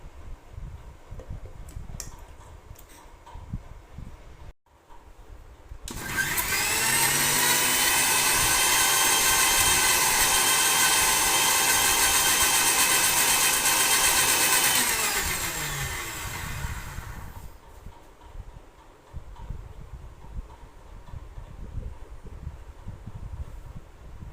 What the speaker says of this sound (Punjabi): ਹੁਣ ਇਹਨੂੰ ਆਪਾਂ ਚੰਗੀ ਤਰ੍ਹਾਂ ਪਹਿਲਾਂ ਪੀਸ ਲੈਣੇ ਆ